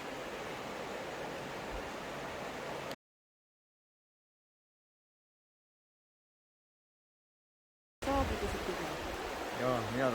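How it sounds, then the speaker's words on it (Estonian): A river, wider than the smaller streams nearby, rushes with a steady broadband wash of flowing water at the start and end, interrupted by a stretch of complete silence. "Nii, tulime siis jõe äärde. See on pisut laiem kui eelnevad."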